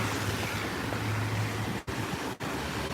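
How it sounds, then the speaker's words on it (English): Broad, constant rushing of 5 to 10 mph wind from Tropical Storm Fay in New York City buffeting the microphone, with two brief dropouts where the gusts cut out. "There's a little bit of a breeze coming in right now. There's some wind coming in right now."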